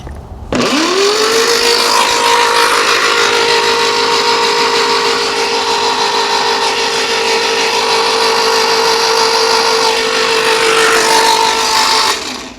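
A Ferguson TEA20 tractor engine with a downswept exhaust turns over on its starter motor. A loud whine spins up quickly, then holds a steady, grinding drone for about twelve seconds before cutting off.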